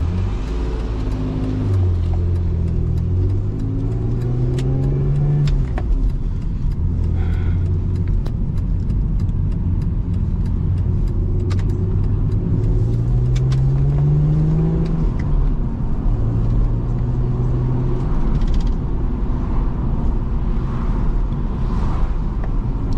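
BMW E46 330Ci pulling hard under steady acceleration, its engine note rising through the gears in a couple of climbing sweeps with a short lift between, loud and continuous from inside the car.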